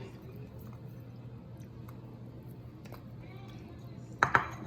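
Mozzarella being stirred into hot pasta with roasted eggplant in a pan: a quiet, soft mixing backed by a low steady hum, ending in two sharp utensil clinks against the pan.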